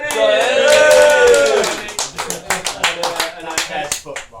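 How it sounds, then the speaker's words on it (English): A small group claps in a quick round of applause at a football club Christmas dinner, close and sparse with distinct individual claps, following a burst of cheering or voices at the start. "We can do a quick round of applause."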